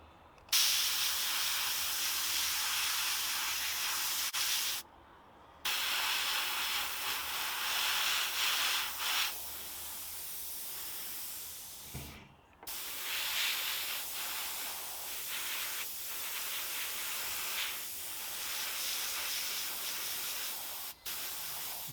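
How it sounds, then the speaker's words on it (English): Airbrush spraying a light coat of paint onto an HO scale bulldozer model's tracks for a dry-brushing effect, a steady close hiss in long bursts broken by brief pauses. "This is essentially a dry brushing effect with an airbrush."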